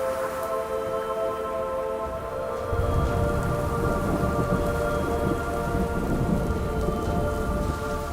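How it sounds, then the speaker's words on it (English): Heavy wet-season rain pours steadily in a jaguar habitat, with low thunder rolling underneath and growing louder partway through; a constant dense downpour with no voices. "The wet season brings heavy rains."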